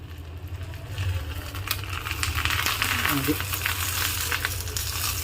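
Fish frying in a banana leaf on a pan, with a steady soft sizzle and crackle running throughout while a person talks over it.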